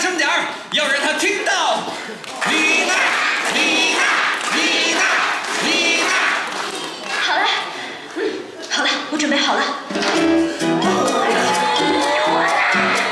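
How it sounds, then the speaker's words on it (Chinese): An audience at a live show at Universal Studios Beijing claps and cheers in bursts, crowd shouts and whoops rising and falling with a host's amplified voice and music-like tones over the din. "大家一起来鼓掌"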